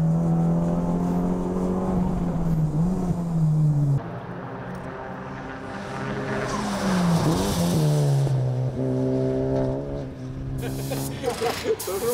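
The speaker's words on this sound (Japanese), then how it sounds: "ドリフトアウトしていきます。" A Honda Civic Type R race car squeals its tires as it drifts out of a corner during endurance racing testing, a loud sustained engine drone shifting pitch while the screech rises and falls, close by.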